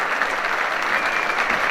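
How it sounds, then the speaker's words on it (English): Football supporters applaud loudly and continuously in a stadium as a flag is carried around for the National League champions, a dense, even roar of clapping with no pauses. "Wonderful applause here"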